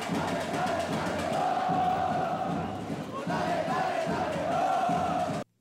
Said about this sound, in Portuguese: nem o calor impediu a animação da torcida, que não ficou quieta por um só segundo